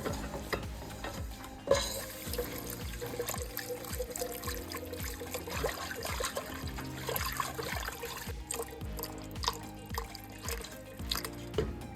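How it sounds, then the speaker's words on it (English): Milk and cream are poured into a roux for buffalo chicken mac and cheese and then stirred, giving a soft, steady liquid trickle and sloshing close by with a small clink. "you're going to pour in that milk and that cream"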